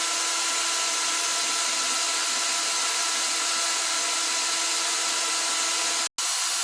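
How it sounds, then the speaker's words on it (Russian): A drill bores a hole into the metal cylinder of a rear shock absorber, a steady, close whirring grind that runs evenly without pressure and cuts off abruptly near the end. "Начинаем сверлить. Давить не надо."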